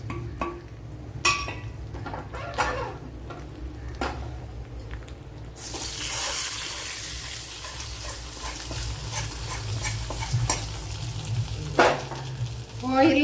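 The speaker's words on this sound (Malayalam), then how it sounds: "ഓയിലിൽ തേങ്ങ തട്ടിയിട്ട് വെച്ചിരിക്കരുത്, കാരണം ഇത് നല്ല വറുത്ത തേങ്ങയാണല്ലോ" Grated coconut with curry leaves and black pepper in hot oil for a Kerala sadya koottu curry: quiet stirring and a few utensil knocks, then a loud, steady sizzle bursts in and continues close by.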